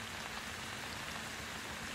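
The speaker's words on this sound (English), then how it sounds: "It is pouring rain right now." Heavy rain pours steadily through a forest, a dense, continuous hiss of drops striking leaves and ground with no pauses, close and even throughout.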